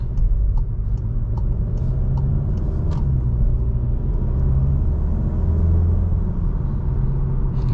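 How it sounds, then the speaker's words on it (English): Steady engine drone and road rumble from a 2021 VW Golf GTI SE DSG with a turbo engine, accelerating on a two-lane state highway toward 45–50 mph, heard from inside the cabin with a continuous low hum and no talking. "You could really hear the turbo in this thing as it spools up a little bit."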